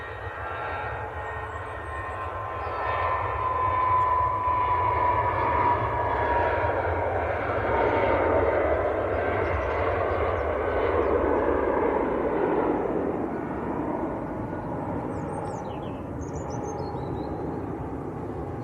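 British Airways airliner departing Manchester Airport for Heathrow, its jet roar swelling and holding loud through the middle with a whining engine tone above a low rumble before easing slightly.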